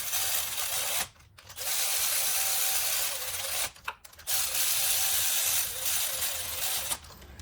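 Hand ratchet clicking rapidly as spark plugs are torqued down on a 2015 Ford Taurus 3.5L non-turbo engine, with steady close metallic ratcheting in three runs separated by short pauses.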